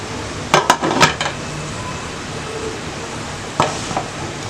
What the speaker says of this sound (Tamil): இப்போ நம்ம இந்த குக்கர் மூடியை வந்து நான் மூடிடுறேன்